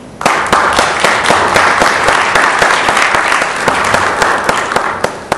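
An audience at a Green Party healthcare hearing applauds after a speech ends. The clapping is loud, dense and sustained, with sharp individual claps standing out as it continues steadily without a break.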